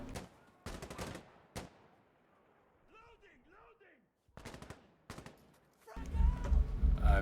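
First-person shooter game gunfire: sharp automatic bursts fired at close range, broken by quiet gaps, then a louder, sustained spell of shooting at the end, with a brief call or tone between the bursts.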